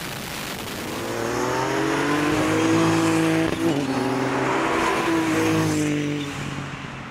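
Formula Ford EcoBoost and BMW M6 race cars cornering on a wet test track, loud engine drone with shifting pitch rising and falling, with a brief gear-change break midway and continuous spray hiss throughout.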